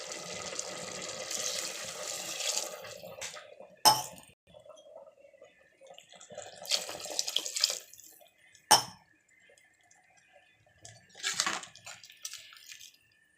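Water poured from a glass into masala in a pressure cooker, in three separate short gushes and splashes with quiet gaps and sharp clinks between them, near and fairly faint.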